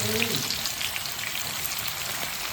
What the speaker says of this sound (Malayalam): ഇനി നമുക്ക് ഇതിലോട്ട് കുറച്ച് സവാള വറുത്ത് വരാൻ വേണം